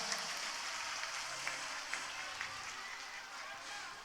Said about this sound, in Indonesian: kasih aplaus yang meriah buat Ustadzah Mumpuni Yekti Handayani